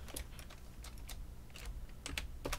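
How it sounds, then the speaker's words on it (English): Quiet, close typing on a computer keyboard during a Minecraft build, with irregular bursts of soft key clicks separated by short pauses. "That's maybe just me typing it."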